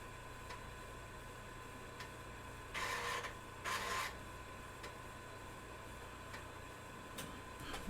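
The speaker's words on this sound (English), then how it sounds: "I can turn off the floppy drives just to remove some of the background noise" Floppy disk drives running on an Altair 8800 computer, a steady mechanical hum with two short bursts of seeking grind and faint periodic ticks.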